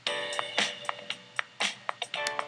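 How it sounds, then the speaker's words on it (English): A GarageBand metronome clicks in a steady rhythm, sharp repeated ticks sitting over a song playing back at moderate volume, with no talking. "You hear that annoying clicking?"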